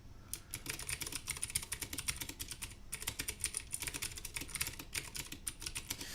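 Fast, continuous typing on a Vortex Core 40% mechanical keyboard with Cherry MX Blue switches, a dense run of crisp clicky keystrokes close to the mic with only a brief pause, no talking.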